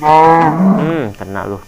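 A cow in the Minecraft video game lets out a loud, drawn-out moo lasting about a second, followed by a shorter second call, with a voice speaking briefly near the end.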